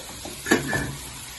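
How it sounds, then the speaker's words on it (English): Ground beef sizzles as it is stirred and broken up in a pan on a home stove in Ghana, a soft steady frying hiss with a brief utensil scrape, close and alone. "he's working on getting that ground beef broken up and browned"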